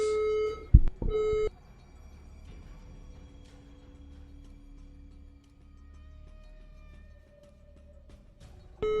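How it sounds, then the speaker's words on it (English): A fire alarm sounds two short bursts of steady electronic beeping near the start, with a brief thump between them. A quiet stretch with faint tones follows, and another beep starts at the very end. "Sorry, fire alarm."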